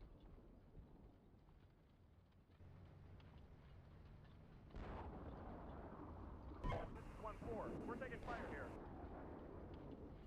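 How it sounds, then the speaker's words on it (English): Machine gun fire from a tank in the Steel Beasts Pro PE combat simulator, a dense rattle over a steady engine rumble, with loud radio talk over the top. "my machine gunner's opening up on him now"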